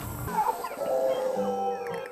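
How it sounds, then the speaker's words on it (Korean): A howler monkey in the Costa Rican forest lets out rough, deep, rising and falling howls that carry in a continuous, moderately distant chorus over background ambience. "보통 새벽과 해질녘에 큰 소리를 낸다는 짖는 원숭이"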